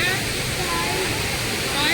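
Cheeyappara waterfall in Kerala roars as a steady, dense wash of falling water, loud and close, with no break across the whole stretch.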